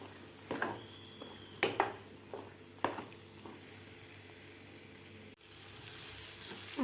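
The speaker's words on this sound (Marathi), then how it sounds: "व्यवस्थित हे परतून घ्यायचं आहे मिश्रण." Coarse semolina and mango pulp sautéed and stirred in a pan make a soft sizzle, broken by several sharp spoon knocks and scrapes against the metal, near and clear with no talking.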